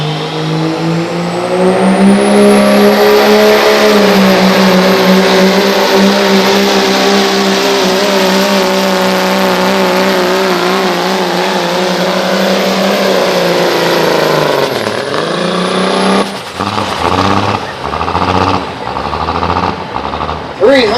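Dodge diesel pickup truck pulling a sled at a truck pull event, its engine roaring loud and sustained with a rising high whine, then dropping off and sputtering near the end as an announcer's voice comes through.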